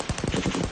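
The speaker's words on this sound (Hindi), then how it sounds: "सीरियाई सेना और द्रूज के बीच जबरदस्त फायरिंग" Heavy automatic gunfire from clashes in Sweida, southern Syria, captured in night news footage: a rapid, dense string of loud bursts with no pauses, and no one talking.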